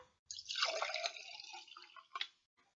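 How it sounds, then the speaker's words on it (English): Water runs into a jar being filled about three-quarters full, a steady splashing pour lasting about two seconds with a brief drip at the end, close and alone. "Fill the jar up with water about 3/4 full."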